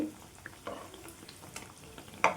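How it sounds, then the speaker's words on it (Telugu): Wheat flour and jaggery sweets frying in hot oil over a medium flame, with a steady soft sizzle and bubbling, a few light stirring clicks and one sharper scrape near the end, close and quiet with no speech. "ఫ్లేమ్ మీడియంలో ఉంచేసుకొని ఇదైతే వేయించుకుందాం"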